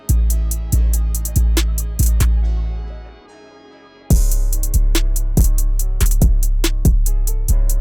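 An FL Studio 24 beat plays back with added piano: punchy kicks and bright hits over sustained piano chords. A brief quiet break of soft piano sits in the middle before the full beat drops back in.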